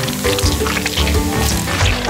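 Tomato paste, chopped tomato, corn and beans with paprika and herbs sizzle steadily in a pan while being stirred, a continuous close frying hiss with scraping movement throughout.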